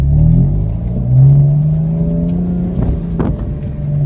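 A BMW M4 engine revving hard during donuts, loud close engine roar with rising and falling revs and a sustained drone, plus brief tire and exhaust bursts near the end.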